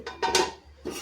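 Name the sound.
lid placed on cooking pot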